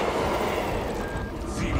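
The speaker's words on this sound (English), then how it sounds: "They're just random trains going past her." Trains rumbling steadily past in the Space Marine 2 video game, a continuous low rolling roar with faint rail clatter, loud and close throughout.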